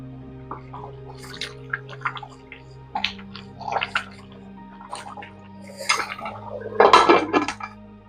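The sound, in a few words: lid placed on a cooking pot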